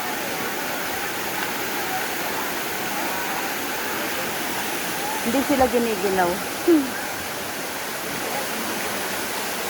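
Caunayan Falls gives off a steady, loud rush of falling water that fills the whole clip, while people talk briefly near the middle.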